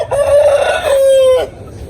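A Brazilian aseel rooster crows once, loud and close, a single sustained cock-a-doodle-doo call lasting over a second, with no talk around it.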